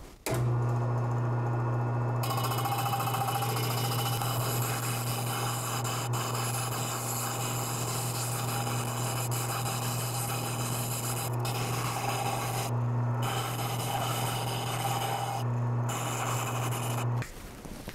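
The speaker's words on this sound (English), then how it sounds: "I'm just gonna leave the rod in there while I sand them on the sanding wheel on my" A steady, continuous abrasive grinding whir of a sanding wheel on a lathe against a wooden spool, holding loud and even for the whole stretch with a low motor hum.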